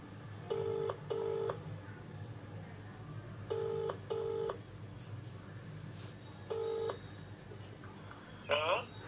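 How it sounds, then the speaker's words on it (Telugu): A phone call on speakerphone gives repeated pairs of electronic ringback tones at an even pace. They sound faint and small, with a short chirp near the end and low background murmur. "రింగ్ అవుతుందండి"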